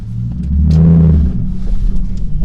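A 2007 Ford Mustang GT engine rumbles during a ride, swelling into a brief deep rev before settling back to a steady low drone.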